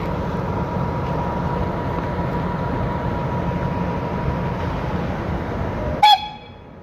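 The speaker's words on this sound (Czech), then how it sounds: "Děkuju za zatroubení." A historic passenger train rolls past at a railway heritage day in Kralupy nad Vltavou, a steady loud rumble of wheels and carriages, ending in a short sharp blast of its horn close by.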